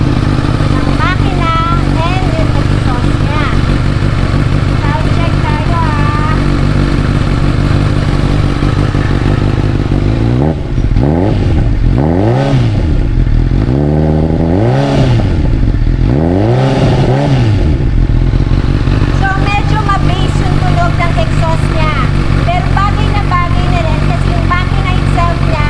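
A Honda CB1000R motorcycle engine idles loudly and steadily, with several throaty revs rising and falling midway while a person talks over it.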